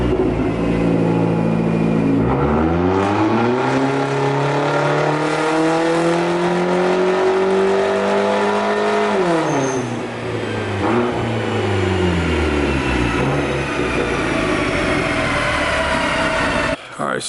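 A custom-tuned car fitted with a Garrett GT3071R turbo makes a dyno pull. The engine note climbs steadily for several seconds, peaks and falls back, then settles into a loud, sustained roar close to the microphone.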